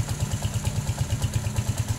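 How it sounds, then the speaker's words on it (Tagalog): A 2009 TMX 155 motorcycle engine idles close by with an even, quick, throbbing beat and a light mechanical clatter, steady and fairly loud throughout. "Ito yung motor ni customer."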